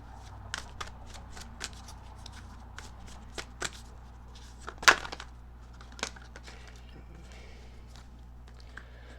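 Tarot cards are shuffled in a quiet room, giving soft papery riffles and light taps scattered through the clip, with one sharper slap near the middle.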